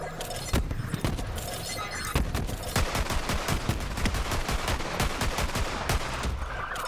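Rapid gunfire from the video game Borderlands 3, dense bursts of close, loud shots cracking in quick succession for several seconds with no talk.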